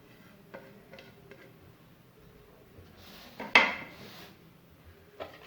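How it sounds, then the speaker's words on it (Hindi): Bread crumbs being stirred into a chicken mixture in a bowl: sparse, quiet clinks and taps of a utensil against the dish, and one brief louder scrape midway. No one speaks. "अब ये थोड़े थोड़े इसमें करके ब्रेड क्रम्स ऐड करते जाएंगे, उनको मिक्स करते जाएंगे।"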